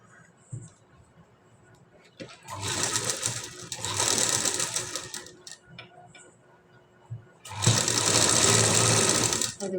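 A sewing machine stitches the lining of a work blouse in three bursts of fast, rattling needle clatter, separated by quieter pauses with faint handling noises and a voice speaking softly.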